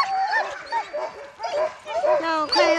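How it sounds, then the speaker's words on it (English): A team of sled dogs in Whistler yips, whimpers and barks excitedly before setting off on a sled run, with overlapping close calls throughout and people talking in the background. "那我快要出发了，狗狗又开始兴奋了"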